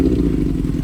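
A Yamaha R1 sportbike engine runs rough and unevenly, struggling to hold idle, with a steady low mechanical drone and faint clatter filling the short moment up close.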